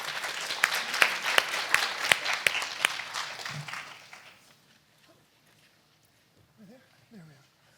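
An audience claps to welcome a speaker, loud close applause with sharp individual claps for about four seconds, then fading to quiet with faint voices and small stirrings.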